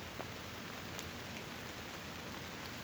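Steady rain patters on a wooden deer hunting stand in the woods, a dense, even hiss with occasional distinct drops, no voices.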